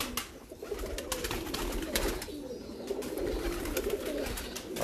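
Teddy pigeons coo in low, rolling, repeated calls close by, layered and continuous over a background of faint rustling and chatter.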